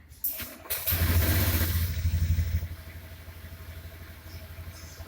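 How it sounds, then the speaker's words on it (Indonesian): A motorcycle engine starts on a voice command, a short cranking burst rising into a loud throbbing idle, then settling to a softer steady run, close by. "Nyalakan motor. Motor Anda sudah dinyalakan."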